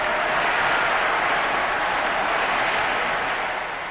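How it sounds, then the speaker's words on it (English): A vast crowd roars and cheers wildly after Nasser's speech announcing the canal's reclamation, a dense, loud, continuous wash of shouting and clapping that eases slightly at the end. "The vast crowd went wild,"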